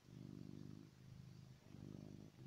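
A house cat purrs softly at close range in a steady rhythmic drone, pulsing in waves with brief pauses between breaths.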